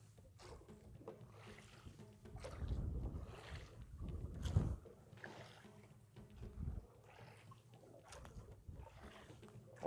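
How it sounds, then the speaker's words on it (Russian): Strong wind on a beach blusters against the microphone in uneven gusts, with heavier buffeting swells around the middle and fainter rushing between them. "Очень сильный ветер,"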